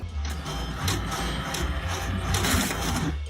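A printer runs with a dense mechanical whirring and clattering rattle, close and fairly loud, with a few sharper knocks mixed into the steady churn.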